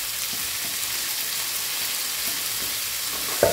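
Chopped tomato sizzles in hot oil tempering for a Bengali fish curry, a bright, even frying hiss with a short clatter of stirring near the end, close up and without speech.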